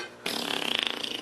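A voice imitates fart noises with a loud, buzzy, rapidly pulsing raspberry that starts abruptly and sputters steadily for about a second.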